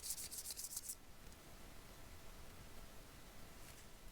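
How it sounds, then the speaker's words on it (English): Fine sandpaper lightly rubs a shellac-coated wooden slingshot made from a tree branch, with a quick burst of brisk scratchy strokes at the start and then soft faint friction. "I'm just going to give it a really light sanding here"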